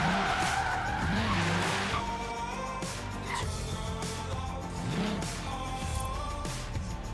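A Toyota AE86 with a twin-cam engine drifts in Forza Horizon 3, its tires squealing in long rising and falling skids over a steady engine drone.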